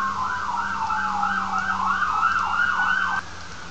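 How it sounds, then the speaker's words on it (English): An ambulance siren wails as it passes by, a loud, steady rising-and-falling yelp over low traffic rumble that cuts off abruptly near the end. "There's an ambulance going by."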